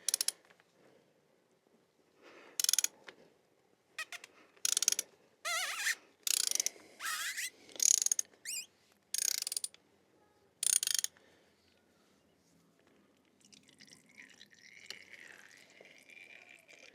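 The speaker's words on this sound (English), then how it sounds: "Now let's remove the old filter." A ratchet wrench clicks in quick, sharp bursts while loosening the old oil filter on a Benelli TRK 502X motorcycle. The bursts come close by with pauses between them, followed by a faint trickle of draining oil.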